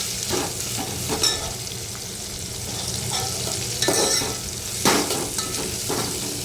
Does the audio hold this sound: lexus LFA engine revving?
no